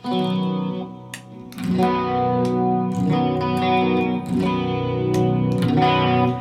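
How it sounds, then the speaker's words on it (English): Distorted electric guitar chords from a modded SG Classic ring out loud and sustained, with a boosted, brighter, louder tone after the first couple of strums as an EMG boost is switched on. "It's an EMG boost. You can hear the volume difference, huh?"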